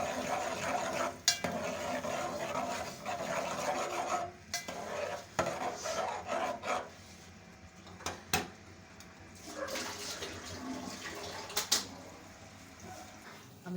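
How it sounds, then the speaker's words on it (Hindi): Ground onion fries in half a cup of ghee in a pan, a soft steady sizzle beneath scattered stirring scrapes and clinks of a spoon against metal, fairly quiet and with no talk. "आधा कप घी डालने के बाद इसमें अब हम पिसी हुई प्याज डालेंगे।"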